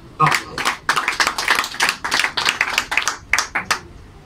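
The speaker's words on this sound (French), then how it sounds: "acclamez pour vous-même parce que vous êtes des fidèles." Church congregation clapping together indoors, a steady run of close, crisp hand claps beating in a loose rhythm for several seconds.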